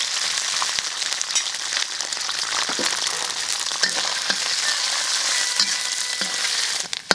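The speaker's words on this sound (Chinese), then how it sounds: "让油温热一下，再下点肥肉给它炒。" Fatty pork sizzles and crackles steadily in hot oil in a wok, a dense, continuous frying hiss with occasional sharper pops, fairly loud and close with no talking.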